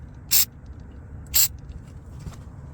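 Two short hissing bursts of aerosol cleaner sprayed onto a Nissan Maxima mass airflow sensor, about a second apart, with a fainter third puff afterward, against a quiet background.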